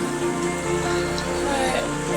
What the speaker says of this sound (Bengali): আমাদের ঝিনাইদহে অনেক বৃষ্টি, অনেক পানি হচ্ছে